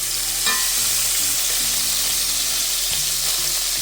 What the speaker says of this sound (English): we're gonna go ahead and flip our bacon